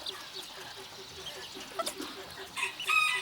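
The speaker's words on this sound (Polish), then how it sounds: "To jest kogutek. Bardzo śmiesznie taki nakrapiany." Young chickens, a brown hen and a speckled rooster, cluck and call in short repeated bursts at moderate distance, with a brief higher squawk near the end and no talk.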